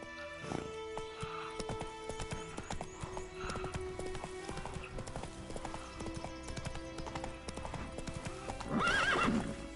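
Roach the horse gallops in The Witcher 3, with steady rhythmic clip-clopping hooves throughout and a loud whinny near the end.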